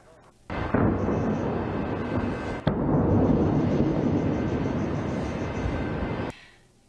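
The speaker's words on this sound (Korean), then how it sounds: "천둥 소리 같은 거대한 폭발음도 연이어 들립니다." A heavy, sustained roar of distant explosions from airstrikes on Beirut rolls on for several seconds, with a sharp blast cutting in partway through.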